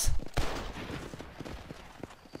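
An Evans rifle fires in the video game Red Dead Redemption, with a sharp loud shot at the start, a second blast just after, and then scattered lighter thuds and clatter fading out.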